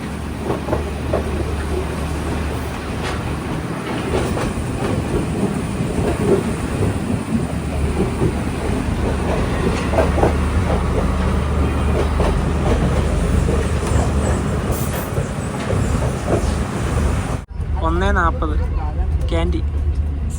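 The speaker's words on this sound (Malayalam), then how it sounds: "ട്രെയിൻ എത്തി" A train arriving at a station on the Colombo to Kandy line, Sri Lanka, rumbles and clatters loudly and steadily along the rails, with faint voices mixed in, before the noise cuts off abruptly near the end.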